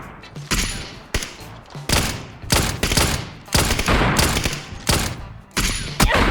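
Gunfire from players shooting in PUBG comes in loud, close bursts, about ten sharp volleys in a row with short gaps between them.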